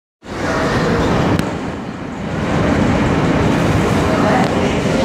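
An R160 F train on the NYC Subway running toward Coney Island–Stillwell Avenue, giving a loud, steady broadband rumble and rattle of wheels and car body with a brief sharp clank near the start.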